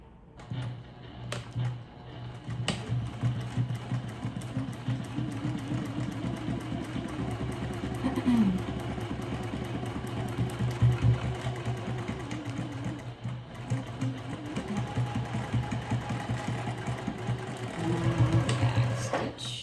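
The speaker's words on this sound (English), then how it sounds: "And here I go, starting to sew." A sewing machine stitches a clear vinyl pouch with a fast, continuous mechanical chatter close by, rising and falling slightly in speed over about twenty seconds.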